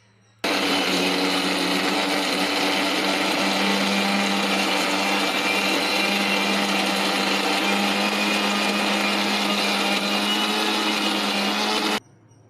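A mixer grinder whirs loudly and steadily as it grinds peanut chutney with onion, starting abruptly, holding an even high-pitched motor drone for about eleven seconds, then cutting off sharply.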